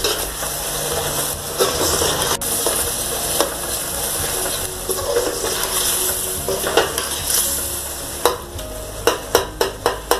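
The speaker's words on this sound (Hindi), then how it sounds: "अभी इसको हम अच्छी तरह भून रहे हैं।" Tomatoes and yogurt are stir-fried for chicken pulao, a close steady sizzle broken by repeated sharp clacks and scrapes of a metal spoon against the pot that grow quicker toward the end.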